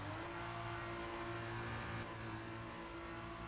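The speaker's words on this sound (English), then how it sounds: "I heard the engine rev up like immediately" A race car's engine in an F1 video game drones steadily as it leaves the garage, a continuous mid-pitched hum holding at moderate level with no talk.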